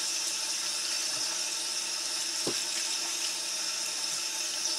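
Running tap water rinses a coyote hide during tanning, a steady broadband splashing stream that holds at an even level throughout with one brief dull knock partway through.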